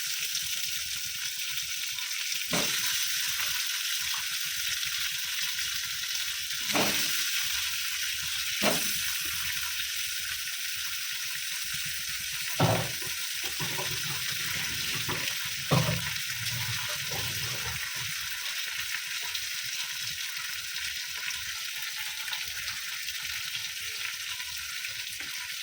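Pabda fish fry in mustard oil with a constant, close crackling sizzle, punctuated by a few sharp pops and spatters.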